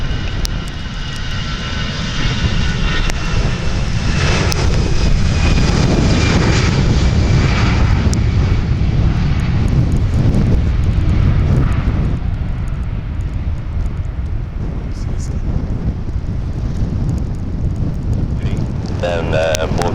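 A jet airplane on the runway at Montreal Trudeau Airport in bad weather, its engines a loud, continuous roar sustained close by, with wind buffeting and a voice speaking underneath.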